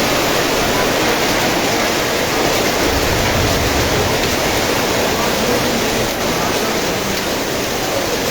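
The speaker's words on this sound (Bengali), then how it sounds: "প্রচণ্ড গতিতে ঝড় বৃষ্টি আর শিলাবৃষ্টি হচ্ছে।" Heavy hailstorm with driving rain and wind in Nilphamari, Bangladesh, making a dense, continuous roar that stays loud and steady throughout with no clear breaks.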